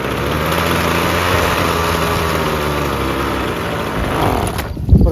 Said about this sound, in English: Put it to half choke, it kind of revs up a little